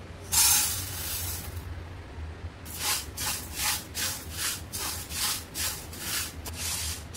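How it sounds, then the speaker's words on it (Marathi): Fenugreek seeds are dry-roasted and stirred in a hot pan on a gas stove, a loud scrape at the start, then a series of rhythmic rustling strokes against quiet background music. "मी गॅसवरती पॅन ठेवलेला आहे, पॅन आपला गरम झालेला आहे, आपण मेथी भाजून घेऊया।"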